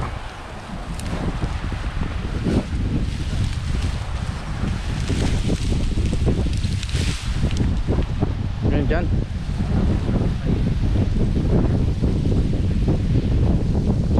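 Strong gusting wind buffets the microphone at the seaside during a catch-and-cook fishing outing, a steady loud roar with surf-like rumble beneath, while people talk over it now and then.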